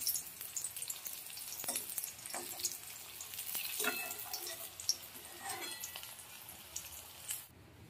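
Raw banana koftas fry in hot oil, a steady close crackling sizzle with scattered sharp pops and brief clinks of a utensil, ending abruptly just before the close.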